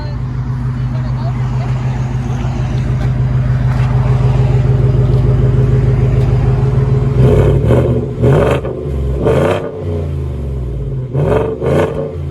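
A 2020 Ford F-150 5.0-liter V8 with its mufflers deleted, resonator kept and a side pipe with dual tips rumbles loud and close, then snaps through several sharp revs near the end.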